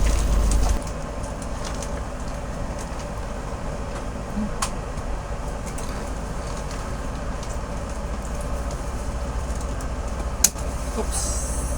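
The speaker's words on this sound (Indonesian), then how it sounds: "Jadi kereta Sembrani ini yang dipersilakan jalan lebih dulu" Sembrani passenger train rolling steadily past Cirebon Kejaksan station, heard as a continuous low rumble with wheel noise and a single sharp clank near the end.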